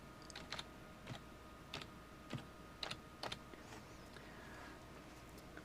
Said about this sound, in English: Okay, I've typed in attorney here.